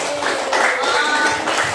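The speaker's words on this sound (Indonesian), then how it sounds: "terima kasih, tepuk tangan untuk Selianti." A short burst of clapping from a small group, light and scattered, with some tapping sounds mixed in.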